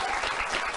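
A television studio audience at a talk show bursts into a brief, dense wash of clapping, fairly loud and with no voice over it.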